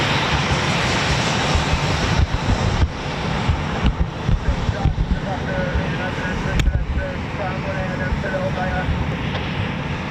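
A Eurofighter Typhoon FGR4 jet flies near an RAF station, its loud continuous engine roar filling the scene, with faint radio chatter in the background.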